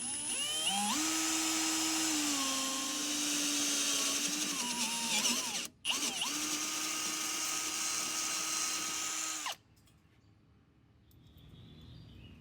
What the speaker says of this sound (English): Use a 5/16 inch drill bit, lubricated with oil, to make the hole.